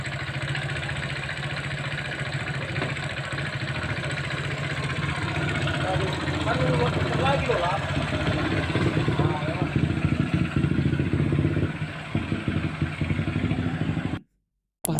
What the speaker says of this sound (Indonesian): Parkir sembarangan dengan mesin menyala sekitar 10 menit